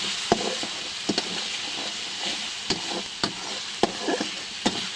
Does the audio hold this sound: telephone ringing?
no